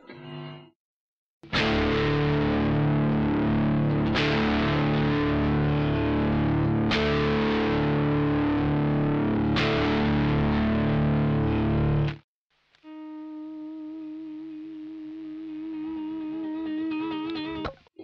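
Loud distorted electric guitar plays a riff intro with sustained chords in heavy effects, swelling in with the volume knob, then breaks briefly and continues on a cleaner, quieter ringing figure.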